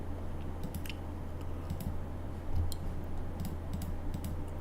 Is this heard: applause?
no